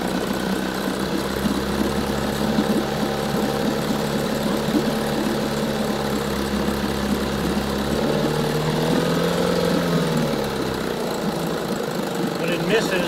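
A 1960 Evinrude 5.5 HP outboard motor running steadily up close, a continuous buzzing drone with a low throb that shifts slightly near the end, someone speaking over it at times.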